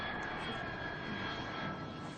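A fixed-wing airplane flies near an airport with a steady, loud engine roar that fills the whole stretch, broad and continuous with no voices over it.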